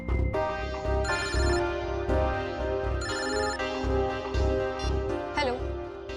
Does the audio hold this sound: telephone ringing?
yes